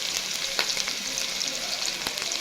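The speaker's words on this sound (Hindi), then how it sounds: "अभी मैं मसाला भूनने जा रही हूँ" Masala and chopped onions frying in hot oil for a potato, cabbage and chicken dish, giving a steady close sizzle with small pops and crackles throughout, no voices.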